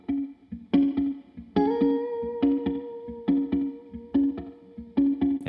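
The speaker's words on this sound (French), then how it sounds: "Sans la reverb, la guitare sonne comme ça." Dry electric guitar with no reverb, a run of plucked notes and chords in a steady rhythm, each attack cut short with a clean, close decay and no voices.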